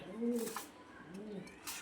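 Pigeons coo in a pigeon loft kept for selling quality birds, a few soft throaty rolling calls close by, with a brief rustle at the end and no talking.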